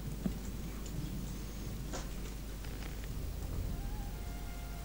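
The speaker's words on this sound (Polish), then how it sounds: "dźwięk deszczu akurat fajny jest w tej grze" Steady rain in the video game Gothic 2, a continuous dense hiss of falling water that holds at an even level throughout, with a few faint brief ticks and no talking.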